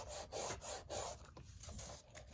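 A fingertip rubs wet glue on a paper traveler's notebook insert, giving a close, quiet, steady scrubbing rasp in repeated short strokes that go on for a couple of seconds without any voice.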